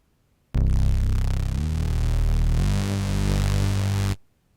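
A deep, buzzy Spectrasonics Omnisphere synth bass note built from a heavily synced and modulated sine wave, held steadily for about three and a half seconds, its tone shifting slightly partway through, with a rich, harmonically dense timbre.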